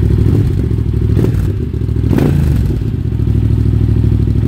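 A loud motorcycle engine fitted with a Scorpion Red Power aftermarket exhaust idles and rumbles steadily with a deep, throaty exhaust, a couple of brief blips rising over the constant low growl.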